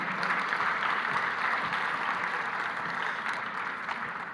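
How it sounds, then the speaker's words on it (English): Steady applause from a forum audience honouring the judges of an agripreneurship award, a continuous, moderately loud wash of clapping that eases slightly toward the end. "So ladies and gentlemen, a round of applause for all of the judges for this year's Agripreneurship Award."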